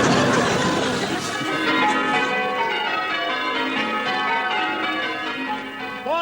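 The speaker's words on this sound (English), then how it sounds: "Nice to hear the bells again." Church bells ring out in overlapping peals that carry on steadily for several seconds, with faint chatter underneath.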